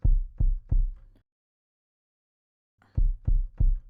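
Layered kick drum sample with extra low end and EQ, struck in two groups of three deep, booming hits with a short silent gap between them, loud and dry with no other sounds.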